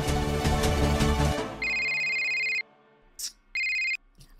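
An incoming call sets off a phone's electronic ringtone: a bright, steady tone in two clear bursts close to the device, following a louder, busier passage of music at the opening, with short gaps of near-silence around them.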